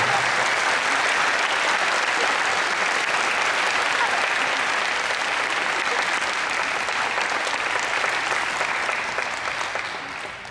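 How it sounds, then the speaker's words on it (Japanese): Sustained, dense applause from a crowd at a high school table tennis awards ceremony, holding steady throughout and tapering slightly at the very end. "会場の皆様、今一度授与されました選手に盛大な拍手をお送りします。"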